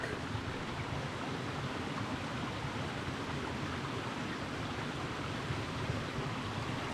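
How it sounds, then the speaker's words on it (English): Mountain brook on a hiking trail in the Grafton Loop area, a steady broadband rush of flowing water heard close and unchanging throughout, with no voices. "I thought I'd show you the beautiful brook."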